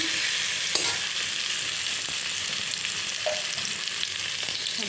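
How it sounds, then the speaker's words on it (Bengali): Steady hiss and crackle of potatoes frying in hot oil left from frying fish, continuous and close, with a few faint clinks. "ওই তেলে আলুটা ভেজে নিচ্ছি একটু"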